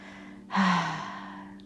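A single deep inhalation during a yoga session, a close, airy breath drawn in that swells suddenly and then slowly tapers away over quiet room tone.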